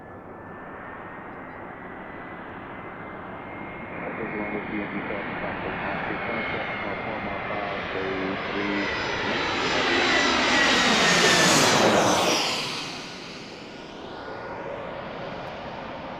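An American Airlines jet inbound from Jacksonville roars loudly on approach to Washington DCA, its engine whine building over several seconds to a peak overhead and then fading as it passes.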